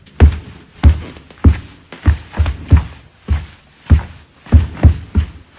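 Sock-covered feet stomp on a floor in a beat pattern of three long beats then two short ones, repeated twice, dull low thuds, close and fairly loud with no talking.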